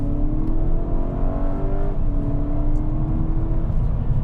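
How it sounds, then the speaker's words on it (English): A Volkswagen Golf GTI Wolfsburg Edition engine hums steadily with a punchy, rising-and-falling note, heard up close as the hatchback drives along. "Now, driving the Golf GTI"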